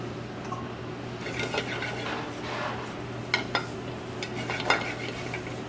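Snap peas in a very hot sauté pan, with a soft steady sizzle under a low hum and a few light clinks and scrapes from stirring.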